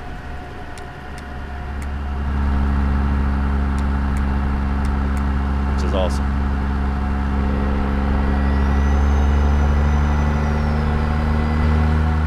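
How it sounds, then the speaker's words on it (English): In American Truck Simulator, a truck's steady engine drone carries light ticking, a brief brake burst midway and a faint rising retarder whine later. A voice speaks briefly. "Even got the retarder sounds for the truck. And also, if you want to change the stage of brake, you even got a sound for that."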